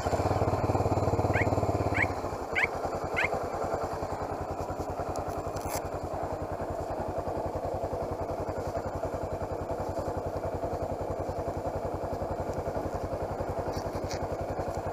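A carbureted Honda Hornet motorcycle cranks with a few sharp clicks, then settles into a steady, close idle with a fast even pulsing beat that goes on to the end.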